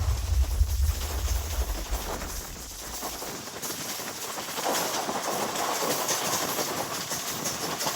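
A MEMU passenger train heads toward Nellore with a steady rolling rumble and faint rhythmic clatter of wheels on rails, heard from inside at moderate volume with no talk.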